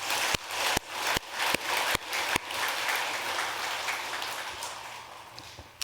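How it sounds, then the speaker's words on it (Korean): Audience applause for the Udambara choir at a temple dharma talk, a sustained wash of many hands clapping, with several sharp louder claps at the start and the applause slowly fading over several seconds. "우리 우담바라 합창단에 큰 박수 한번 더 부탁드립니다"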